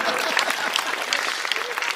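An audience claps at a Hindi comedy poetry gathering (hasya kavi sammelan), a lively dense burst of applause up close, with some crowd voices mixed in.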